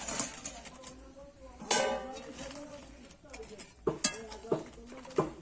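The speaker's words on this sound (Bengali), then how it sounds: "আর দিয়ে দেবো গরম মশলা দিয়ে কিন্তু আমি একটু নেড়ে নেব" Palak curry with garam masala being stirred in a pan, a spoon scraping and clinking against the metal in a few distinct knocks, with a voice talking over it.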